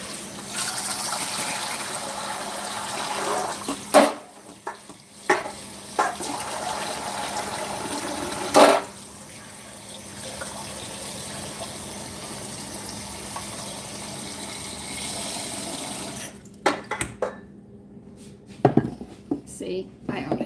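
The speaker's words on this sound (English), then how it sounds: "Now when you do fill it with water after you rinse these, you only put it 1 inch above them." Tap water gushes into a pot of rinsed yams, a steady broadband rush lasting most of the stretch with brief breaks and clanks of the pot, fairly close and loud, with no speech over it.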